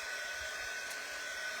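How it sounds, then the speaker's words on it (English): A hair dryer runs steadily on craft work, a constant close whirring blow with no pauses. "So I am just going to dry it with my dryer."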